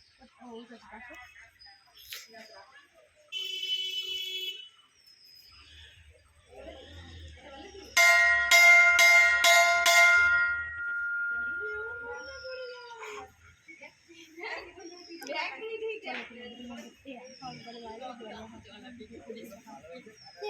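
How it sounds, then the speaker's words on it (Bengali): A bell is rung about half a dozen times in a quick, bright, ringing burst near the middle. People talk before and after it, with other light background sounds around. "ঘন্টাটা বাজাও"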